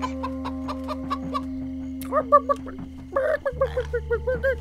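Chicken clucking in the video game Minecraft Story Mode, a series of short repeated clucks over a steady game background hum, with ambient game sounds underneath.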